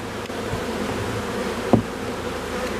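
A steady, dense buzz of many honeybees at the hive hums continuously close by, with a brief soft knock partway through.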